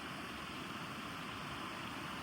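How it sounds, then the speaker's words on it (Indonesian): A small forest stream in Germany's Black Forest rushes as a steady, dense wash of water noise, even and continuous throughout without voices. "suara airnya deras ya"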